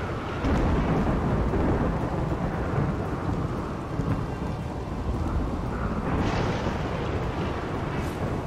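Steady rain and rolling thunder from the RimWorld video game form a dense, loud, continuous roar, alone without voices.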